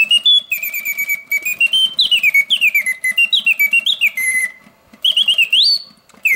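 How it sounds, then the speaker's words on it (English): Vintage Karl Griesbaum mechanical singing bird cage automaton plays its song alone: a loud, strong whistling warble of rising and falling trills in rapid bursts, with a brief pause before it resumes. "The song is very strong and loud, yet the mechanism runs smoothly."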